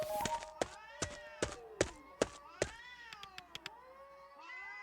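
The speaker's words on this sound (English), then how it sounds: "The cats are acting strangely since I space dived." Cats in the video game A Space for the Unbound let out a series of sharp, loud meows and caterwauls, roughly one every half second, then a quicker run of shorter cries and a longer drawn-out yowl.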